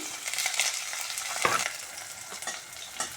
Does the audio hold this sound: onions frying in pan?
yes